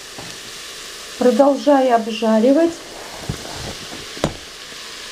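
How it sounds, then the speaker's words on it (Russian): Onion and carrot sizzle as they fry in a multicooker, a steady low crackle running under a voice, with a loud stirring burst partway through and a sharp knock near the end. "Когда лук слегка поджарится, загрузите морковку. Обжаривайте примерно 5 минут."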